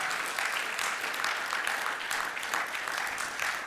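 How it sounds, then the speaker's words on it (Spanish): A church congregation gives loud applause in praise of God, a continuous wash of many hands clapping at steady intensity throughout, with little else audible. "Dale el aplauso fuerte de alabanza a él"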